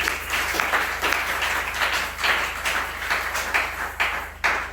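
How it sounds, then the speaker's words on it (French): A church congregation claps for the Lord in uneven surges, rising and falling in bursts over a constant low electrical hum. "Applaudissez le Seigneur Jésus."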